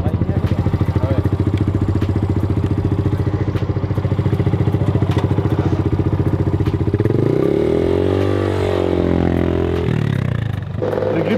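A small motorcycle engine runs close and loud, revving and shifting pitch, with faint rattling under it.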